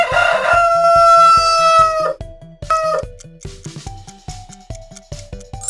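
A rooster crows loudly up close, a long harmonic call, followed by another crow and clucking over a repetitive synthetic beat.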